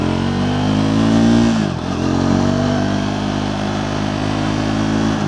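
A new Triumph Scrambler 400cc motorcycle engine pulls hard and loud up close, its steady drone rising, dipping briefly as the gears shift, then climbing again.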